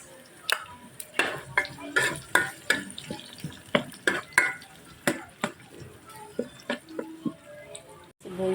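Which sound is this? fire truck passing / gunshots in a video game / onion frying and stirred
onion frying and stirred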